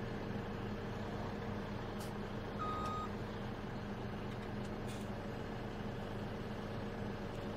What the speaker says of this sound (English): We'll keep the truck running, and we'll definitely keep the skid steer running.